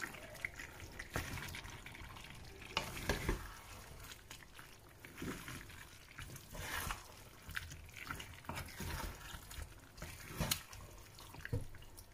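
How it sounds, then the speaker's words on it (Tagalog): Pork belly with tofu and black beans in sauce is stirred in a pan, giving soft, wet, irregular scraping and sloshing sounds, faint and close, with a few sharper utensil knocks over steady background noise. "haluin lang natin siya ng konti para medyo mag-ano lang siya ng sauce"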